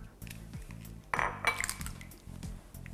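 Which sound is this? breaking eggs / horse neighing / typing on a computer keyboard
breaking eggs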